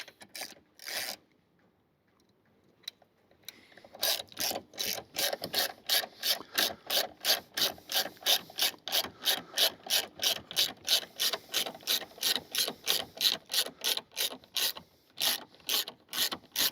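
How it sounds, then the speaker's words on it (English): Ratchet wrench cranking down the battery clamp on a Ford Ranger NextGen Wildtrak, a close, steady run of sharp clicks at an even brisk rhythm after a few isolated ticks, with no talking. "we can now tighten the battery clamp"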